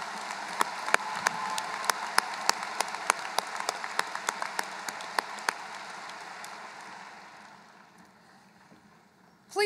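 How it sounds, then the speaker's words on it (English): Audience applause for a senior high school choir at a 2023 graduation ceremony, a broad wash of clapping with scattered sharp individual claps, steady for several seconds before gradually thinning and fading out near the end. "Let's give our Francis Howell Central Senior Choir members another round of applause."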